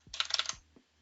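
A computer keyboard clatters with a quick burst of key presses, close and fairly quiet, followed by a couple of isolated thumps.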